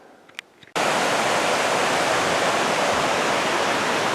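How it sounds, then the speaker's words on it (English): Mountain stream flowing out of the Crystal Lakes at Mt. Rainier rushes in a loud, steady broadband roar. It cuts in abruptly after a brief quiet moment with a few faint knocks. "This is the stream that flows out of the 2 crystal lakes from up above."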